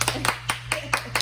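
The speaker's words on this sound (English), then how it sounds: "Hand clap." Six close, crisp hand claps in a quick, steady rhythm, heard over a low constant hum.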